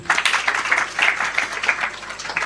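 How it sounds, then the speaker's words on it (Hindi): A seated audience at a Bhagavad Gita class applauds a correct answer, a short burst of dense, lively hand clapping that stays fairly close and loud throughout. "इनके लिए जोरदार तालियां"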